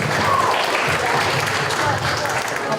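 An audience claps at the Aligarh Youth Festival 2019 quiz, a dense, steady patter of many hands that runs the whole moment, mixed with voices talking.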